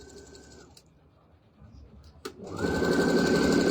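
Sewing machine stitching pieces of a drawstring bag: a short whir of stitching, a pause with a sharp click, then a louder sustained run of the motor, close by.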